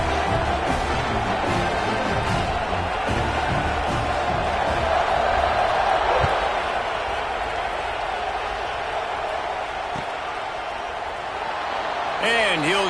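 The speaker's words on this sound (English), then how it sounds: "You think this crowd's going to get loud when their defense comes on the field?" A steady roar from a stadium crowd in a college football video game featuring the Longhorns swells continuously beneath a commentator's voice, loud and sustained throughout.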